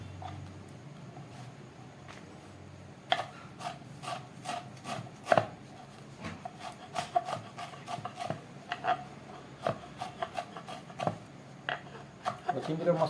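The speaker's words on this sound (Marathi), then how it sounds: "कोथिंबीर मस्त बारीक चिरून घ्यायची." A knife chops finely through coriander on a board in quick, irregular taps, close and fairly quiet, with short pauses between bursts.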